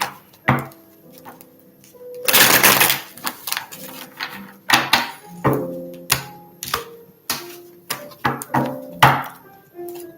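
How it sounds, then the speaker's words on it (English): A deck of tarot cards shuffled close by, with crisp clattering riffles and a longer dense burst, followed by a run of sharp, irregular taps and snaps as the cards are cut and squared. "I just shuffled really good"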